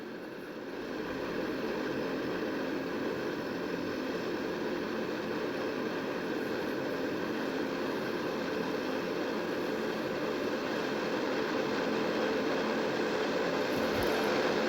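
Broad, steady engine roar of an RL-42 aircraft taking off in a flight video game, holding loud and constant with no voices over it.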